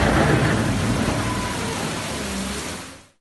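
Heavy rain pours steadily onto the streets of Artvin city centre, a dense, loud hiss with low rumbling beneath it that holds for about three seconds and then cuts off abruptly.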